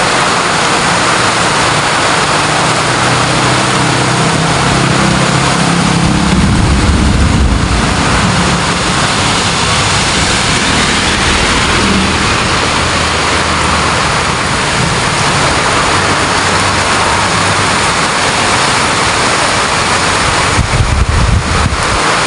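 Heavy rain lashes down in a storm with a constant loud hiss, joined by buffeting wind gusts and low rumbles, and no one speaking.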